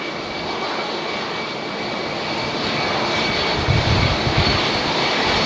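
A jet airliner, an Airbus A350 or A321neo, at Auckland Airport produces a steady, broad engine roar from a distance that swells slightly toward the end.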